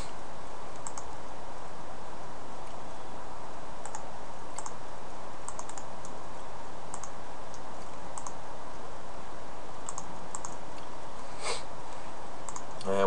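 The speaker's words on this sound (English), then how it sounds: "you'll want to enter your username and password" Clicking keys on a computer keyboard as a username and password are typed, scattered taps in irregular bursts over a steady hum, faint and without talk.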